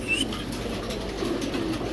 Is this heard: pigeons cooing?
yes